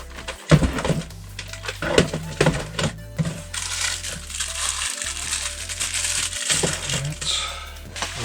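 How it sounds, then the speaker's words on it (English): Bubble wrap void filler is stuffed into a shipping box around toys, producing close crinkling, crunching and rustling with irregular sharp crackles as it is pressed into place. "Little bubble wrap void filler in there. Keep it from rattling around too much."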